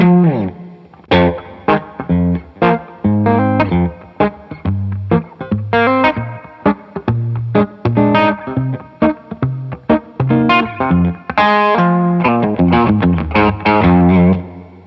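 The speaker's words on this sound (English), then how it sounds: "So this would be super cool, always on spring reverb sound in my opinion." Electric guitar played through a Carl Martin HeadRoom Mini spring reverb pedal, with loud plucked notes and chords in a lively rhythm, each ringing into a splashy spring reverb tail.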